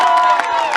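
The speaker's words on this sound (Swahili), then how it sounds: "Mpigie makofi." A crowd at a Kenyan dowry ceremony in Ikanga, Tutu, lets out a short, loud burst of cheering and raised voices that sounds close by.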